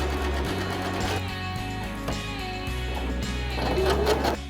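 A sewing machine runs steadily while stitching garment facings, close and loud, its motor whirring continuously for the whole stretch with slight shifts in pace.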